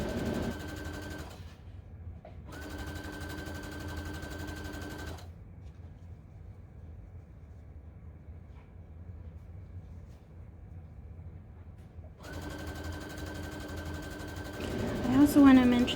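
A sewing machine stitches tulle for a ribbon trim tutu. It runs in two bursts of steady whirring motor, stops for a long quiet stretch, then starts again near the end.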